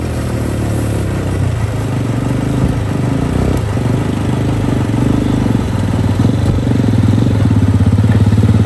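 A motorcycle engine runs close by on a road through a mountain village, with a steady loud rumble that stays constant throughout.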